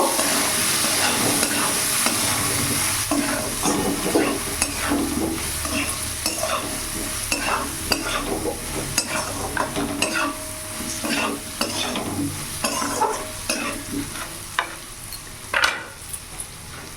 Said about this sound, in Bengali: জিরে গুঁড়ো দিয়ে দিলাম আর এখানে লঙ্কা গুঁড়ো অল্প দিয়ে দিলাম ভালো করে নাড়াচাড়া করে নেব